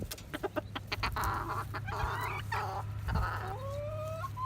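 Chickens in a backyard cage clucking: a quick string of near, sharp clucks, then longer drawn-out rising calls and honk-like squawks over a low steady hum.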